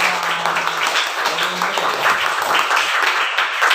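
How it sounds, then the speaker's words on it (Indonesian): Clapping from a classroom group of students applauding in honour of the Prophet, steady and dense across the whole stretch, with a few voices murmuring beneath. "tepuk tangan dulu untuk Nabi"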